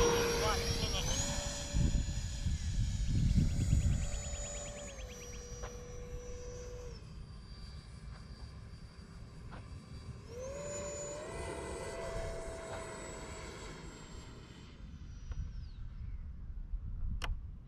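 X-2100 jet-powered RC glider coming in to land fast with no flaps, its whining ducted-fan jet tone rising and falling in pitch as the throttle changes, with someone talking over the flight.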